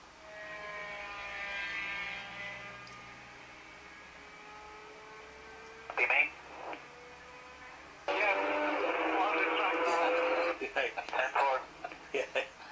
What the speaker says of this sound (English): We've got in-car radio, so we're just going to sit back,